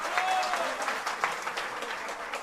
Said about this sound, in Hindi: ताली बजा करके।